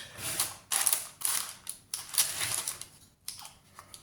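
Scissors snip into a shaped loaf of homemade no-knead bread dough, cutting a cross on top: a series of close, crisp clicking cuts in uneven bursts, with no talking.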